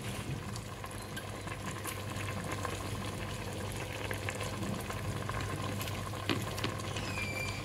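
A pot of sauce simmering and bubbling steadily, a dense continuous burble with light sizzle, close and even throughout, no voices.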